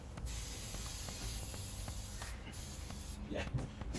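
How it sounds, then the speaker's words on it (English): Spray gun with a clogged tip spraying onto an oversized lounge chair during reupholstering, a continuous close hiss that runs steadily for several seconds with slight fluctuations. "It's still spraying, but that tip's clogged."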